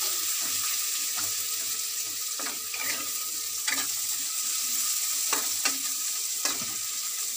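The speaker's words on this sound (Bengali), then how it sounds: "আমি একটু কম তেলে রান্না করতেছি। পেঁয়াজটা একটু ভেজে নেব।" Chopped onion fries in a little oil with a steady, close sizzle, broken by several sharp scrapes and clinks from stirring in the pan.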